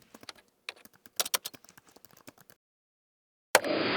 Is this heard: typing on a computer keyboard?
yes